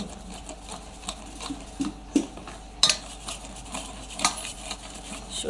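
A metal cooking pot is set down on the stove with a sharp clank midway through, surrounded by lighter kitchen clinks and scrapes in a quiet room.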